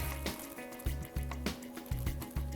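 Icing mix is poured into a freezer bag for piping crosses on hot cross buns, making soft, close wet squelches and glugs in several short bursts.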